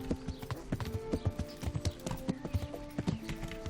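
Horse hooves clip-clop at a steady trotting rhythm in the medieval video game Kingdom Come Deliverance, with quiet, continuous, fairly close rapid hoof beats and no talking.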